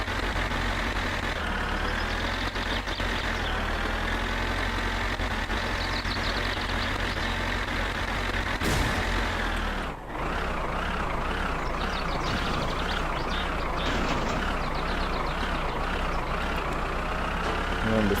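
A truck engine in the Finnish driving game My Summer Car runs steadily and loudly throughout, with a brief dip around the middle as the truck is put into gear and pulls away.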